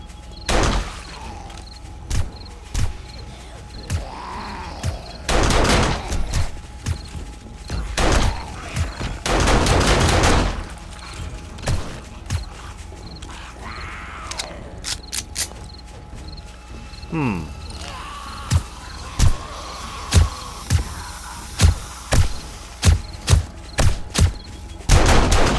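Repeated gunshots from a silenced pistol and an automated turret in the survival game 7 Days to Die, sharp close cracks fired in scattered bursts and rapid clusters, with thumps between them and no voices.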